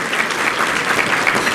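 Audience at a 2011 civil rights awards banquet applauds in a steady, dense wash of clapping that fills the room from start to finish, with no voices standing out.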